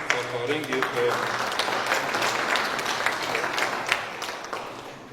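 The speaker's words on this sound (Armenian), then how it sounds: "ծափահարենք" An audience applauds steadily at an Armenian event honouring Rainer Christian Kozel. The dense clapping holds for five seconds at full strength, with a few voices briefly audible at the start.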